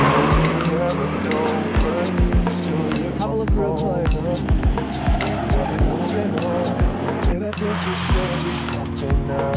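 An S13 drift car corners at a VicDrift event with its wheel hopping, heard as a loud engine with rapid rhythmic thumps and tyre noise. Crowd and ambient noise sit beneath it.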